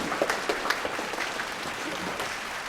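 An audience at a motivational talk claps in agreement, light uneven claps that settle into a steady patter of moderate applause, with no voices.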